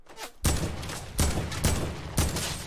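Rapid bursts of gunfire in the battle royale game Fortnite, four loud broadband blasts in quick succession, each trailing into a dense rattling decay, with no talk over them.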